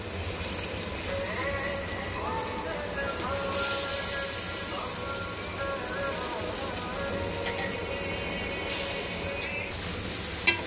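Washed vegetables frying in masala in a pan for paneer dum biryani, a steady close sizzle with stirring scrapes throughout, a faint voice murmuring underneath.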